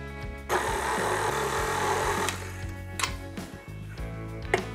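Food processor on its lowest setting mixing flour and butter for pie crust: a near, loud whirring motor run with rhythmic knocking and ticking as the blade chops, alone without talk.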